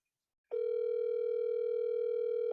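A steady electronic telephone tone starts after a half-second of silence and holds unbroken, clear and close.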